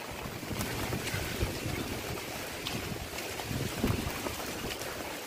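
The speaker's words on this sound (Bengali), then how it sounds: "প্রচন্ড ঝোড়ো হাওয়া দিচ্ছে।" Gusty storm wind from Cyclone Remal rushes and buffets steadily, a broad noisy roar with small surges, heard from a moderate distance.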